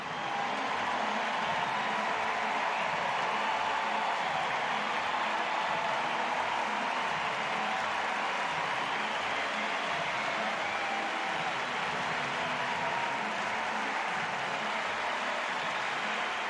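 A baseball crowd at Wrigley Field applauds a milestone hit during a Nationals at Cubs game, a broad, even wash of distant clapping and crowd noise that holds steady throughout.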